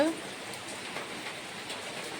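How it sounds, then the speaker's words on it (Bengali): Rain falling at night, a soft, even patter that holds steady throughout, fairly faint and unbroken. "দেখো কি সুন্দর বৃষ্টি হচ্ছে"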